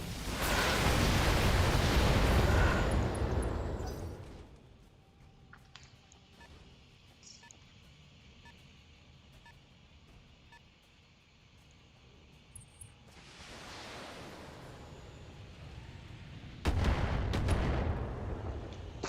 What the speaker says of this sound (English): Just a couple missiles there.